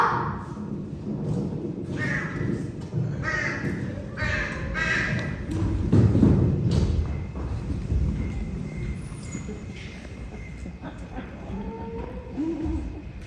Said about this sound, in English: It's the crow!